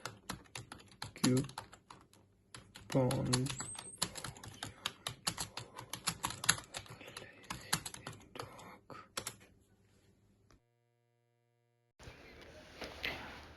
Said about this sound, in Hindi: इस सेंटेंस को टाइप करना है।